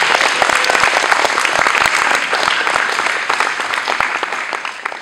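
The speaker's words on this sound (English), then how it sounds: "let's give an incredible round of applause to everybody" At a youth parliament inauguration, the audience gives sustained applause: a thick crowd clapping at full strength with crisp individual claps popping out of the mass, then slowly thinning toward the end.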